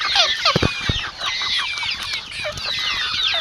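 Chickens clucking and squawking close by in a steady, busy chorus of overlapping calls, with occasional sharp knocks and no talk.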